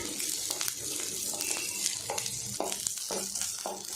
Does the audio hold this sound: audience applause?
no